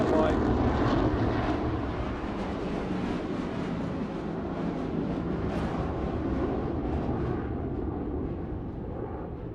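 An RAF Typhoon fighter jet flies at the Farnborough airshow, its loud, steady, broad jet roar filling the whole stretch and slowly fading toward the end, with a voice talking over it.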